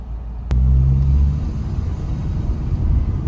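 A car moving along a city street in Taraz, a low steady road rumble and engine drone from inside the cabin, opened by a sharp knock and with a heavier surge of rumble early on.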